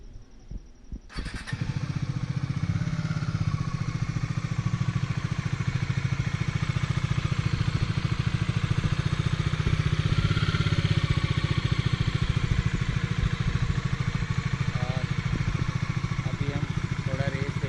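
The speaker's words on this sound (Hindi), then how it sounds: "तो पहले हम डोमिनर का चेक करते हैं, देखते हैं इसका एग्जॉस्ट कैसा है जब हम इग्निशन ऑन करते हैं।" A Bajaj Dominar 400 motorcycle fires up after a brief quiet start, then settles into a loud, steady exhaust idle with an even low thump that runs unbroken to the end.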